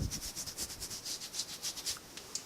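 A soft, rhythmic scratching rub of a razor against skin repeats steadily at close range, each stroke a brief raspy swipe with quiet pauses between.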